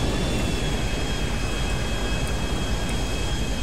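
An airplane landing in a PC video game gives a loud, steady broadband engine roar with a faint high whine, continuous throughout with no speech.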